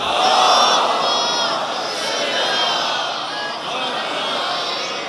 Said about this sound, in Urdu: صلوات پڑھ لیں ذرا محمد و آل محمد۔